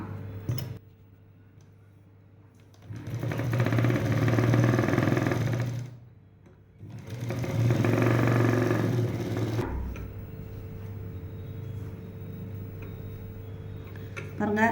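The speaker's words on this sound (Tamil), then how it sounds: "இது மேலேயே ஒரு தையல் போட்டுடலாம்" A sewing machine stitches blouse fabric in two steady whirring bursts of a couple of seconds each, separated by a brief pause, then falls to a lower hum with a faint ticking rhythm; close and fairly loud, no speech over it.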